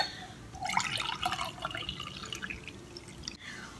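Hot, thin boiled fat cutter drink poured from a pan into a glass in a home kitchen, a brief splashy trickle that rises near the start and then tapers into softer dribbles.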